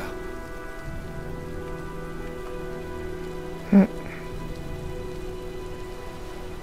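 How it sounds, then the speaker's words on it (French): Steady rain patters continuously in the video game Heavy Rain, with a brief louder thud midway and a faint voice under the downpour. "Je crois qu'un orage se prépare."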